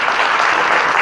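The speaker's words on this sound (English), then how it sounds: "give this guy a round of applause for being here" A presentation audience applauds, a short burst of dense, loud clapping from a crowd indoors.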